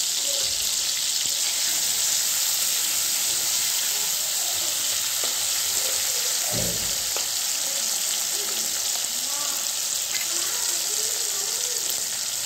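Dried fish frying in oil in a village-style kitchen, a loud, steady, continuous sizzle close up with occasional faint stirring clinks and no talk.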